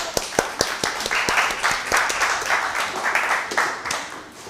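Applause breaks out on a live cooking show, a scattering of sharp individual claps joined by a steadier patter of clapping hands over a few seconds.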